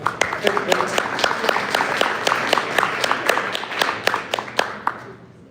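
Audience applause at a live community entrepreneur meetup in Detroit: steady, fairly close clapping with distinct sharp claps standing out, tapering off at the end.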